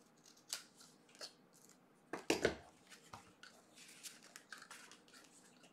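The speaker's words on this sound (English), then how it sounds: "Fold that over, cut that piece off." Scissors snip through a piece of card in a handful of short, crisp cuts, the loudest burst in the middle, close and quiet with no talking.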